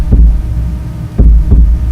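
A man imitates a heartbeat on a podcast: loud, low, muffled thumps, a single beat followed later by a lub-dub pair, close to the microphone with no speech.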